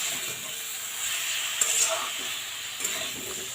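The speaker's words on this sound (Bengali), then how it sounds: "চিনিটা দেওয়ার পর একটু মিশিয়ে নেব।" A spoon stirs sugar through sautéed potato and green jackfruit curry in a hot pan, steady sizzling under a few soft scraping strokes and light clinks, close and continuous with no talking.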